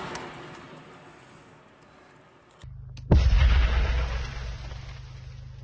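A loud, deep boom from a weapon shot at a target cuts in sharply after a brief hush, then a rumbling roar rolls on and slowly fades.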